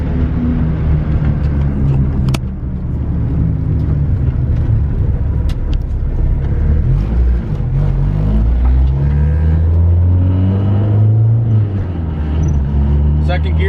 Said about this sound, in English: So we'll do a little rip for you guys.